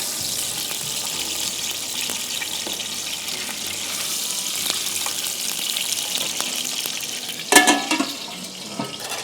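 Mutton pieces from the leg, shoulder and chest are frying and browning for mandi, a steady loud sizzle with occasional stirring clatter and one sharper knock near the end, no talking.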